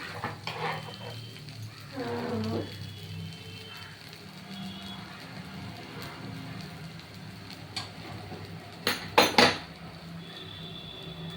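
Chira pulao, a flattened-rice dish, is tipped out of a pan onto a plate with a soft scraping slide and light metal clinks, followed later by a few sharp clatters of a spoon against the pan.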